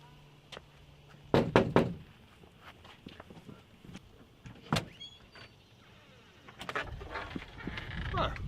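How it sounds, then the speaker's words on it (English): Several sharp knocks rap on a door in a quick cluster, with a few scattered thuds and footsteps afterward in an indoor setting, and a voice speaks briefly nearby. "Let me knock for you."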